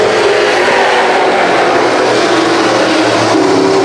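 Several pro stock race cars accelerate hard around a speedway, their loud, dense engine roar holding at full throttle with no letup.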